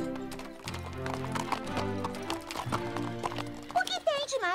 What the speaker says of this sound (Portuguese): Uma dupla de cavalos andando juntos lado a lado